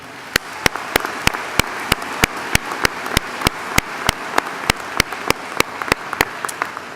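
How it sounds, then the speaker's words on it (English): An audience at an honors ceremony claps in a steady, rhythmic burst of applause lasting several seconds, each clap sharp and distinct in a fairly even beat. "Let's give them a round of applause, please."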